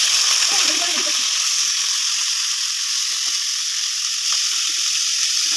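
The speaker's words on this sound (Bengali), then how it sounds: "কড়াইয়ের মধ্যে বৌদি তেল দিয়েছে, এবার পনিরগুলো দিয়ে দেবে।" Paneer cubes frying in hot oil in a wok, a loud, continuous close-up sizzle and hiss throughout, with a few faint clinks and brief murmuring voices beneath.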